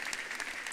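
Church congregation applauding, a brief dense patch of steady clapping from a crowd in a worship service.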